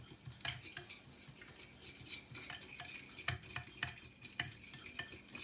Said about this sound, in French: Le jaune d'œuf va commencer à cuire. Je mélange.